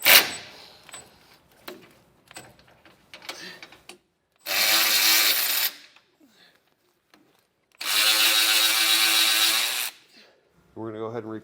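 A ratchet with a 15mm socket loosens sway bar bolts on a 2018 Ford F-350, two sustained bursts of close, loud clicking with brief sounds in between and speech nearby.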